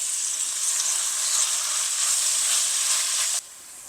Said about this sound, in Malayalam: എണ്ണ ചൂടാകുമ്പോൾ നമുക്ക് നമ്മൾ അരിഞ്ഞു വെച്ചിരിക്കുന്ന സവാള ഇടാം